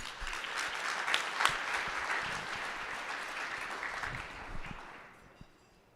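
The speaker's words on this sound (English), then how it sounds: "So give them another round of applause." An audience at an awards ceremony applauds mentors with steady, moderately loud clapping that holds through most of the stretch, then thins and fades out near the end.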